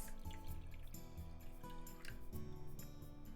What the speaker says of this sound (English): Add some water about halfway up the eggs.